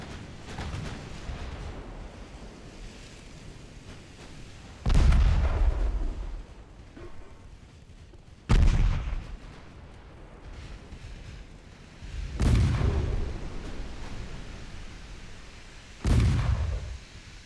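Torpedo hits and a ship going down in Ultimate Admiral Dreadnoughts, a naval warship game: four or five heavy booming blasts spaced a few seconds apart over a low, rumbling sea ambience, with no voices.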